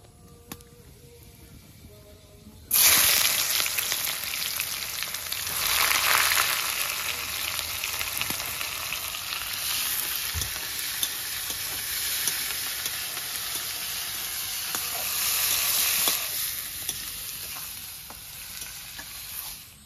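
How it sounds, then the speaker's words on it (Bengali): Sliced onions hit hot oil with cloves, cinnamon, cardamom, cumin and bay leaves, bursting into a loud, dense sizzle that carries on steadily for the rest of the stretch, with stirring now and then. "পেঁয়াজটা একটু লাল লাল করে ভেজে নিয়েছি।"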